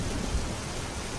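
Steady rain with a low thunder rumble, a dense, even hiss of falling water that stays constant and fairly loud, with no voices.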